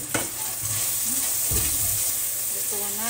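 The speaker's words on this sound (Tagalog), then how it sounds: "One-fourth na pork cubes. Suti muna natin" Pork cubes sauté in a pan with continuous sizzling and frying hiss, with a few stirring scrapes of a utensil and a faint voice in the background.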